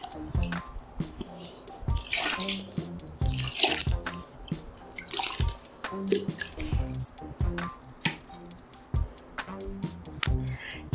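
Water splashes and drips while feet are rinsed during a foot-care treatment to remove corns and calluses, with wet squishing and scattered clicks running throughout at close range.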